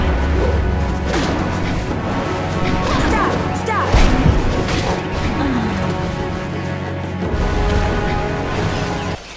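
Cannon fire in the Jade Empire game: heavy crashing impacts and thuds over steady background music, with a sharp hit around the middle, while a voice talks.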